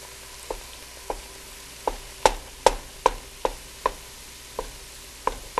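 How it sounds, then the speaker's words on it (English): Tomato paste sizzles and browns in a soup pot, a soft steady crackle broken by a series of sharp clicks and taps at irregular intervals, close and fairly quiet, with no voices. "by putting the tomato paste in there and letting it cook, it kind of browns up and makes it taste richer and not as bitter"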